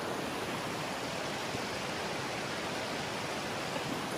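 A river flows loudly beside the bank, a continuous roaring hiss that stays even throughout, close up and alone without speech.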